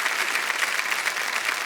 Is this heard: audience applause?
yes